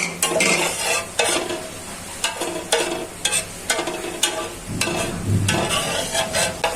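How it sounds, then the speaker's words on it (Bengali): Cardamom, cinnamon and bay leaves sizzle in hot oil with repeated scraping stir strokes from a utensil against the pan, loud and close, with no talking. "এলাচি, দারচিনি, তেজপাতা দিয়ে দিচ্ছি, একটু ভেজে নিই"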